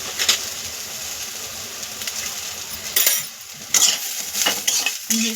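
Tomatoes are sautéed in a pan with green chilli and coriander, with a soft sizzle under repeated metallic clinks and scrapes of a spoon against the pan.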